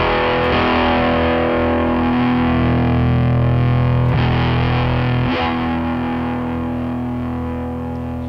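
Electric guitar played through a Preamp Mkii with a resonant cocked-wah filter set at the toe position, distorted and sustained, with steady held chords and a brief pick scrape, loud and close, alone.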